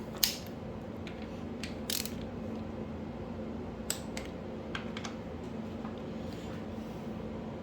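Torque wrench tightening bolts on a forged Nissan VQ37VHR engine during VVEL installation, giving a few sharp clicks spread across the clip over a steady low workshop hum, fairly close with no talking.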